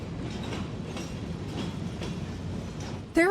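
Loud in-game train engine rumble with rhythmic clickety-clack of wheels on rails, steady and close throughout, ending in a sharp rising squeal.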